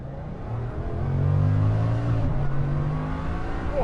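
Bugatti Chiron Super Sport accelerating hard from a standstill, a loud, steady engine roar heard close from inside, its pitch sweeping upward through the gears with brief shifts and no talk.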